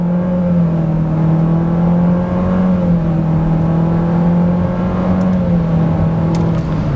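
A compact SUV, one of a Citroën C4 Cactus, Volkswagen T-Cross or Renault Captur, launches hard from standstill with slight wheelspin and accelerates toward 100 km/h, its engine a loud, steady, close drone.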